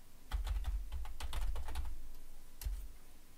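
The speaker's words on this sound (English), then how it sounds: "I'm gonna type in a Y for yes" Quick bursts of keystrokes on a computer keyboard, close and clear, a run of taps followed by a pause and one final tap, with no talking.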